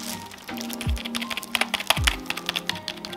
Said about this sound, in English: I'm pressing very hard for you to actually be able to hear it. It's a silent keyboard